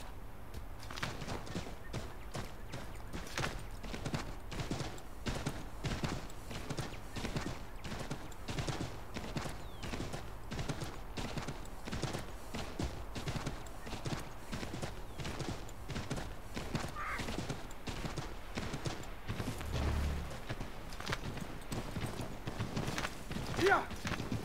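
In the video game Assassin's Creed III, a horse's hooves clip-clop in a fast, steady rhythm across the whole stretch, with a few brief sharp sounds and a voice heard now and then.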